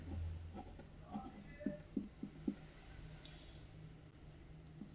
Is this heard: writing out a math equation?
yes